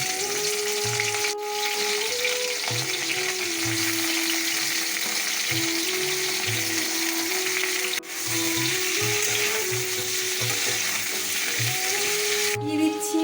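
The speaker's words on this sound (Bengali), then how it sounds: "কেটে রাখা আলু আর পুঁই শাকের ডাটাগুলোকে আমি এখন তেলে ছেড়ে দিলাম" Chopped potatoes and pui shak (Malabar spinach) stems frying in oil with cumin, a steady close sizzle with soft scraping stirs, and a faint tonal hum running underneath throughout.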